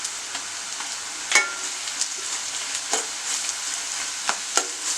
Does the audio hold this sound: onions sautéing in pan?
yes